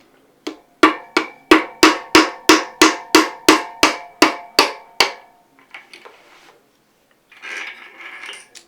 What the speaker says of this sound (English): you take a piece of rubber and a hammer, you want to put it over the axle on the driver's side, and then just hammer your axle out